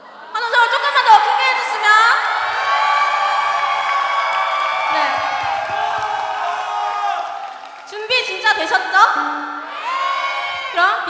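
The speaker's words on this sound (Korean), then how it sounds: "환호성이 너무 작아가지고" A youth crowd at a church worship concert and praise competition cheers and shouts loudly and continuously. High whoops and screams swell together, dip briefly, then burst up again.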